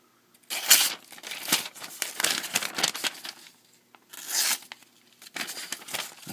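A Benchmade 275 Adamas folding knife with a D2 steel blade slices through paper, giving several dry, rasping tearing strokes in bursts separated by short pauses, close and clear.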